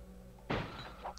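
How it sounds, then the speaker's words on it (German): A door in the video game XIII thuds once as it refuses to open, a single heavy knock standing alone against a quiet background hum. "wieso kannst du die Tür nicht öffnen?"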